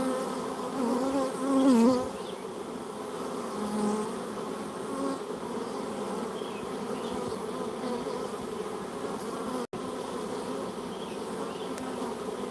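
Honeybees swarming around a hive make a continuous buzzing drone. It swells briefly near the start and then stays steady and close.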